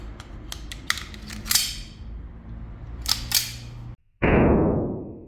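A blank gun loaded with a 0.25 gram plastic airsoft BB is handled with a few sharp clicks and snaps, then after a brief silence fires a loud close blast with a hissing, decaying tail.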